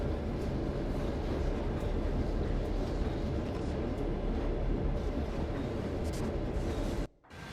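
A Santa Fe F7 diesel locomotive pulls a manifest train in Train Sim World 3, slowing from speed. A steady low rumble of engine and rolling wheels runs throughout and drops off sharply near the end, with no talking.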